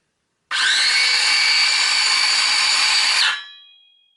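An Excel 18V cordless 165mm circular saw, model 11753, is switched on with no workpiece and spins up to a loud, steady whine for about three seconds, then its electric brake stops the blade quickly.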